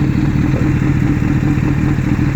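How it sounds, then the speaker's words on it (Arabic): A motorcycle engine runs close by with a loud, steady low rumble and mechanical clatter, no voices over it. "دايس دبرياج، ستارت انجن"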